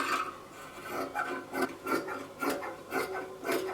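Scissors cutting through dress fabric along a marked line, a close series of crisp snipping and rasping cuts in an uneven rhythm with no voices.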